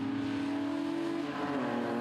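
A BMW race car in an open-class event at the Taupo circuit goes by, its engine a loud, steady drone whose pitch shifts slightly partway through as it passes close.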